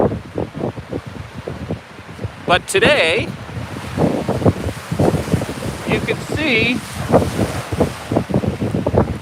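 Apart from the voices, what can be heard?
strong easterly storm wind and waves on Cameron Lake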